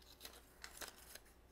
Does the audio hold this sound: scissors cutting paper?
yes